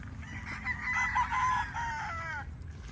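Young local banded stags, roosters crowing at a farm: one clear, drawn-out crow with a rising then falling call, over low background noise.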